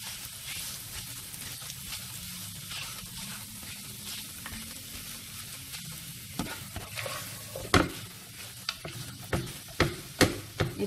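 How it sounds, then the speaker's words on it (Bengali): Mashed sweet potato frying in ghee on medium heat for a halwa dessert, a soft steady sizzle at first, then increasingly frequent loud scrapes and presses of a spatula against the pan. "এটাকে ভালোভাবে ঘিয়ের মধ্যে ভেজে মিশিয়ে নিতে হবে।"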